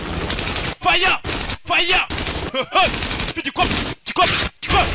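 Machine gun fire from the action film Extraction 2 comes in short, sharp bursts of rapid shots, broken by a voice narrating over the soundtrack.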